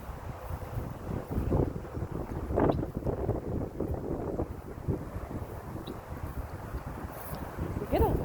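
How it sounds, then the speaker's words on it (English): Wind gusts on a homestead hilltop beside a pond, buffeting the microphone in low rumbling bursts that rise and fall, with a voice talking intermittently over it. "We get a lot of wind up here."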